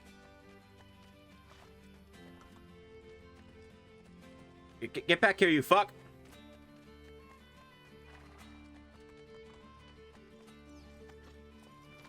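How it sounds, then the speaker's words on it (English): Horse in Assassin's Creed Brotherhood gallops in a short, loud burst of rapid hoofbeats near the middle, with a neigh, over quiet background music as a character shouts. "I'm gonna mount that horse"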